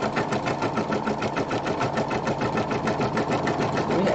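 An embroidery machine stitches a snowflake design, a close, rapid, even mechanical chatter with a steady needle rhythm and no pauses.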